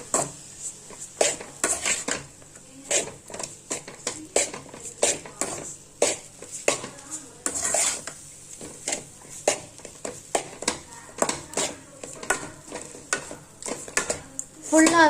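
A spoon scrapes and clinks repeatedly against a pan while lemon semiya vermicelli is stirred, the strokes coming in a quick, steady rhythm close up with no voice over them.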